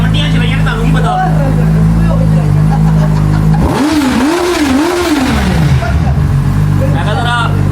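A motorcycle engine revs hard as the bike arrives, a loud throaty rise and fall in several swells, with people talking over and around it the whole time.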